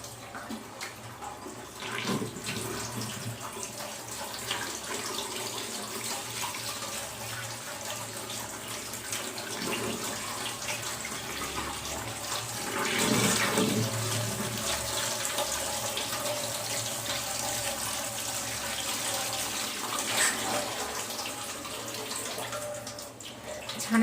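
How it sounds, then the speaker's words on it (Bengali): Tap water running steadily while fresh chhana (cottage cheese) is washed in a sieve, a continuous close splashing flow that swells briefly midway, with no voices. "এখন আমি এটা ভালো করে ওয়াশ করে নিব।"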